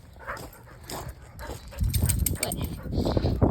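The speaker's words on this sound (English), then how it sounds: "My dogs are having a little playtime right now." Dogs romping in play near a pond, with yips, whimpers and scuffling close by, while a person talks over them.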